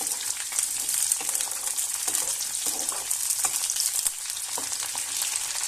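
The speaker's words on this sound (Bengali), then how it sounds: "সর্ষের তেলে করব। ফুলকপিগুলো এবার ভালো করে আমি ভেজে নেব।" Cauliflower florets frying in mustard oil with whole cumin and a bay leaf, a bright, constant crackling sizzle throughout with occasional soft stirring knocks, fairly close and without talk.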